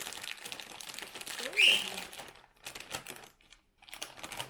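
A bag of teriyaki potato chips is torn and crinkled open in short crisp bursts of rustling plastic, close and fairly quiet, with brief pauses between.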